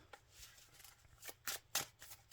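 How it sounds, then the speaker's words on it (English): A deck of Yu-Gi-Oh! trading cards being shuffled by hand: a few quick, soft riffling bursts at close range, quiet and brief, with no talking. "Just shuffle this up real quick."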